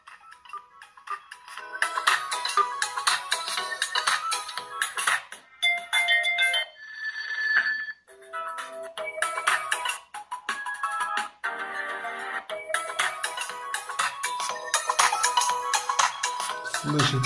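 A ringtone melody plays from a Lenovo Lemon K3 (K30-T) budget smartphone, a bright continuous electronic tune with a brief pause midway, heard close and clear.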